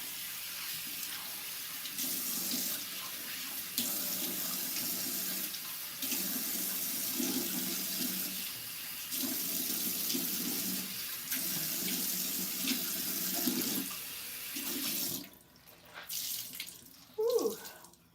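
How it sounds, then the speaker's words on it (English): A bathroom sink tap runs steadily while someone rinses their face, with splashing water pulses over the continuous flow before it shuts off, followed by brief faint sounds. "Let me rinse my face."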